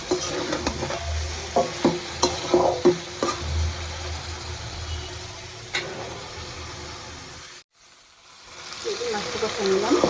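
Potatoes and fish sautéing in a pan, with scattered scraping and clinking of a utensil over a low frying hiss, a brief silent gap near the end, then the sizzle resumes.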